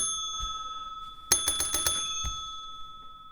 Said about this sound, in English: It's a classic service bell, apparently.